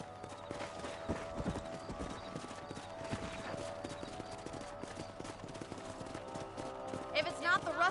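Horse hooves clip-clop steadily while riding in the Western video game Red Dead Redemption, set under continuous game music and talk, with a louder burst of sound near the end.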